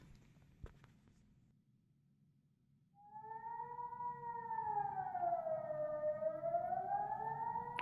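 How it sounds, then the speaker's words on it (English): A Swiss civil defense siren test on a hot sunny day, heard from indoors: the wail rises and slowly wavers in pitch, sounding muffled and somewhat distant, heard alone after a brief click. "hear anything that happens on the outside unless it's very loud, which is obviously the case with the sirens"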